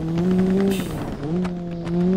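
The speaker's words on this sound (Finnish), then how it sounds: "Oikee takapyörä on rikki. Kuten kuuluu tollanen fläpätti ääni." A car in BeamNG.drive rolls on a broken rear tyre. A steady engine drone carries rapid, repeating flapping thumps from the damaged wheel, close and fairly loud, with a brief dip in the middle.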